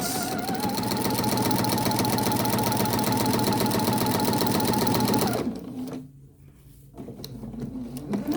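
A sewing machine with a walking foot stitches through a quilt in a rapid, steady mechanical chatter, close and loud, then stops abruptly, leaving faint handling noises.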